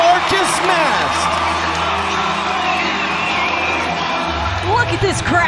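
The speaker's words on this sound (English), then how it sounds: "Look at this crowd." A rodeo crowd cheers after a Kansas City Outlaws bull ride, as Marcus Mast rides Hoka Hey. Loud, dense cheering with whoops and shouts runs throughout, and a nearby voice talks over the crowd.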